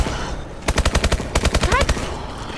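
Video game gunfire in two quick automatic bursts of sharp, evenly spaced shots, loud and close, with a short pause between them.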